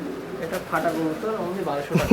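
Sirazi-Lahori cross pigeons coo in low, throaty warbles close by while a person talks over them.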